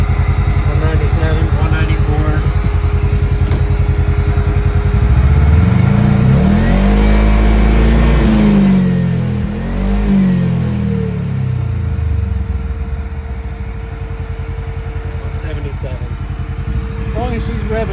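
A side-by-side utility vehicle idles with a steady engine drone, then revs up strongly into a loud rising and falling roar before settling back to an even idle.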